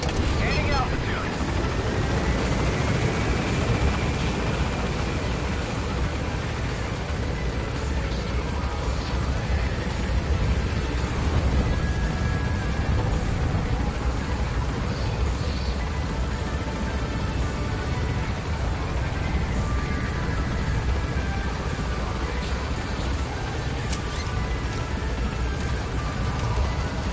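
In the video game Metal Gear Solid V, a helicopter gains altitude with a continuous rotor and engine drone that stays steady and loud throughout, with occasional game effects on top.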